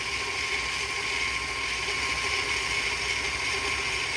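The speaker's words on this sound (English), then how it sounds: "I have this on speed number 4 of my KitchenAid" A KitchenAid stand mixer runs on speed 4, creaming butter with brown and white sugar. It gives off a constant, even mechanical whir and hum with a slight rattle, heard alone and without pause.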